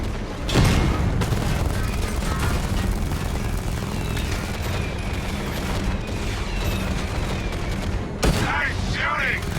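Gunfire in Batman: Arkham Knight on PC, a dense continuous barrage of shots and booms with a louder burst near the start, mixed with a voice under the dense battle noise.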